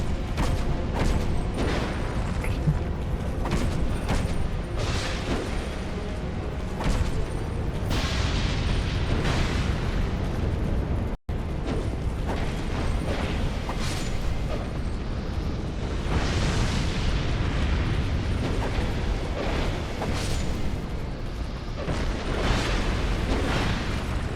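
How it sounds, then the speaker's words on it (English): Repeated Fire Orb spell explosions in Dark Souls 2: Scholar of the First Sin, a dense run of booming bursts and crackles that keeps going with only one brief drop in the middle. "Go for something that does AoE damage, like Fire Orb. I am also using Fire Orb."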